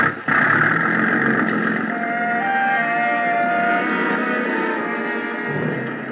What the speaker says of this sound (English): The big gas engine took over where the wind dropped it